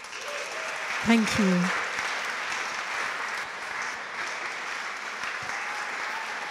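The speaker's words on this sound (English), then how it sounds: "Can we have another round of applause?" A large audience applauds after a performance by the Citizens of the World Choir in a church nave: broad, sustained clapping that fills the space from start to finish, with a brief spoken thanks near the beginning.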